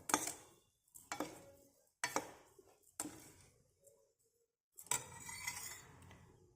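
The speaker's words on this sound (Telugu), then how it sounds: "ఒక 1 మినిట్ వరకు ఇలాగే కలపాలి." Spoon stirring a thick coconut barfi mixture with sugar and cardamom powder in a pan, a series of distinct scraping and clinking strokes against the metal with short pauses between, close and moderately loud.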